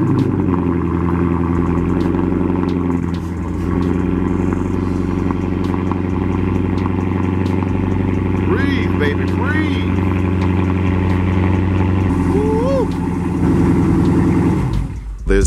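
A Dodge Charger Scat Pack V8 settles into a cold-start idle, a deep, steady, close-up rumble with a strong low hum held throughout. A voice briefly speaks over the engine.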